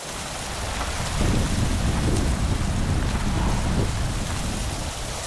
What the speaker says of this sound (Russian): Дождь оказался на удивление холодным